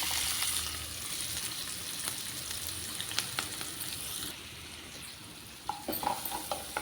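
Chopped onion and green chili fry in a pan, a continuous hissing sizzle with occasional clicks of a spoon stirring against the metal, quiet and close.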